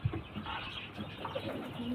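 A male pigeon coos in a loft, low soft throaty calls repeated a few times at close range, faint and alone with no talk.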